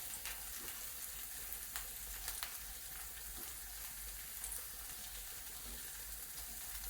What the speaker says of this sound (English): Sizzling up, that's starting to melt.